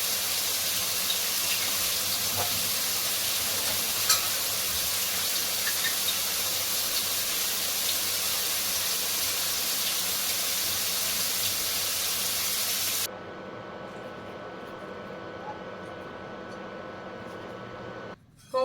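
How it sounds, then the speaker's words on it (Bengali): Vegetable chop sizzling in hot oil in a home kitchen, a steady loud hiss that suddenly drops to a quieter sizzle near the end, with no talking. "আর এদিকে আমাদের ভেজিটেবল চপটা ভাজবো"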